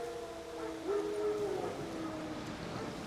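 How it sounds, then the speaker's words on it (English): Wild dogs howl in the White Orchard area of The Witcher 3 video game, a single drawn-out, wavering howl rising over a low ambient outdoor bed, moderately distant and without talk. "Wolves? No. Wild dogs."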